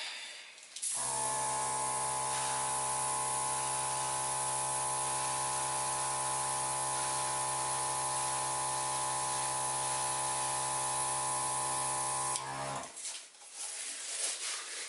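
An airbrush sprays paint in one continuous, close hiss carrying a steady droning tone, starting abruptly and cutting off after about twelve seconds, followed by faint handling noise.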